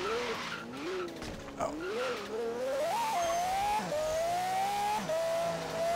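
A car skids hard during an emergency stop on an outback drive, with tires squealing in a long, rising and falling wail up close, loud and continuous for several seconds.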